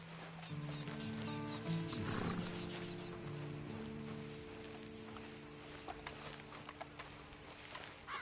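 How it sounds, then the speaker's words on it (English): Horse sounds in a video game play behind a steady bed of sustained background music. Hooves and a whinny are brief and partly masked, with a rougher burst of activity near the two-second mark. "And you better get on this horse."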